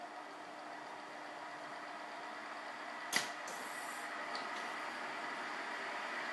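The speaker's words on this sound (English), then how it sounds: "Engine's turning." A Citroen DS engine runs in first gear with a 5-speed half-automatic hydraulic gearbox, giving a steady, even mechanical drone. A single sharp click cuts in midway, followed by a brief higher rattle, with no voices present.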